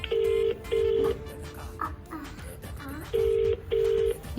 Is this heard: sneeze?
no